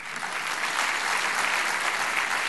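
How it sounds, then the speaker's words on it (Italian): Steady, dense audience applause from a live show crowd, filling the whole stretch at an even, fairly loud level without a break. "che non ce l'ha fatta, un applauso."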